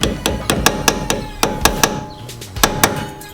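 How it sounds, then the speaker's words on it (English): Metal hammer blows drive brake pad retaining pins back into a Nissan GT-R caliper during a pad change: about a dozen sharp, ringing strikes close by, in quick uneven bursts with a brief pause midway. "We're now putting the pads in, and we're hitting the pins back in."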